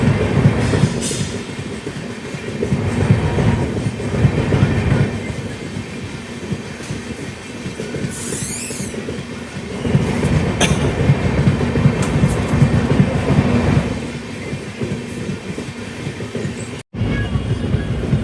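A passenger train, the Sairang Rajdhani Express, runs at speed, heard from on board as a steady loud rumble with rhythmic clatter of wheels over rail joints and a brief high squeal midway.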